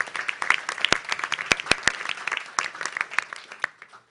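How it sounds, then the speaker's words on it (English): A small audience at a board meeting claps for a few seconds, scattered individual claps that gradually thin out and stop. "give you a round of applause to join our board"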